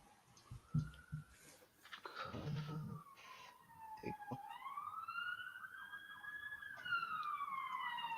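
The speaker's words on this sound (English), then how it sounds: "I'm gonna let those sirens pass by." Emergency vehicle sirens pass by in a virtual setting with dynamic weather, wailing tones sweeping up and down and swelling louder as they approach, mixed with a second siren layered over low background rumble.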